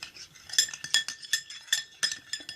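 Slime ingredients being mixed in a bowl, with repeated clinking and scraping of a utensil against the container in quick, uneven strokes, close and fairly quiet, with no talking.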